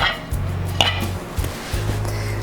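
A pot of Portuguese-style baked beans with chorizo lifted off the heat, the lid scraping and clinking against metal in a few short close knocks over a low steady hum.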